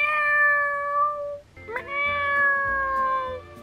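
A person imitates a cat meowing, giving two long drawn-out meows close to the listener with a brief pause between them, clear and loud with nothing else heard.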